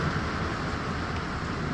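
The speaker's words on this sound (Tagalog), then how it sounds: "grabe ang ulan, guys" Heavy storm rain in Sweden pours down in a dense, steady wash, loud and continuous, with no voices and no breaks.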